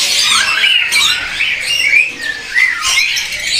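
Caged birds at a bird kiosk in Pasar Burung Pramuka, loud close squawks and shrill repeated calls overlapping in quick bursts.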